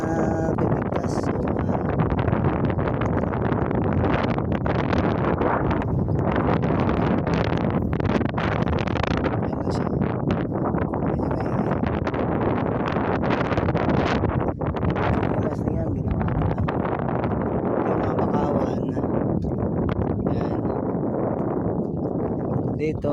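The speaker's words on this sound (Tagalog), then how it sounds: "lakas ng hangin" Strong, steady wind roars and buffets the microphone throughout, with people talking underneath.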